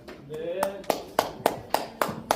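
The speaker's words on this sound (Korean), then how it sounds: "다시 한번 박수로 하나님께 영광 돌립니다." A church congregation at a March 1st independence movement seminar claps together in slow, evenly spaced beats, about six sharp claps after a brief burst of speech.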